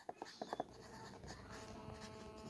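Pen or marker strokes writing an answer by hand during a French lesson: quick scratchy bursts early on, then softer steady writing beneath faint talk.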